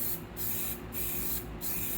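An aerosol spray paint can hisses out orange paint in three steady bursts with short gaps between them. The spray is close and loud, with no voices over it.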